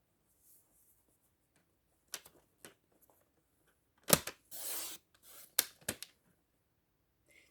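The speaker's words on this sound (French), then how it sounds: "je regarde si mon massicot, il coupe bien droit" A paper trimmer slices paper for scrapbooking, heard as a few sharp, separate swishes and scraping strokes close by, with near silence between them.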